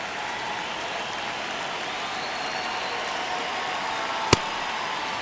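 A baseball stadium crowd in the MLB The Show video game keeps up a steady wash of murmur and noise, with one sharp click near the end.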